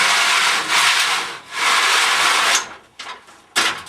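A folding loft ladder's wooden steps slide and scrape down from the hatch in two long rasping strokes, then a few short knocks and clunks as the sections settle, close by with no talk.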